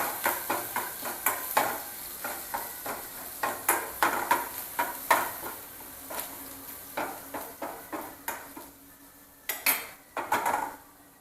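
Raw vegetables for momos are stir-fried briefly in a pan, heard as a rapid series of spatula scrapes and clinks against the metal over a light sizzle, close and fairly quiet, with no speech.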